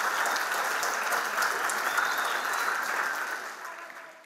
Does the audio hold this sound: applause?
yes